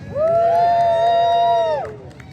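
Crowd at a May Day trade union political rally cheering together, a loud swell of raised voices that holds steady for over a second and a half before fading off.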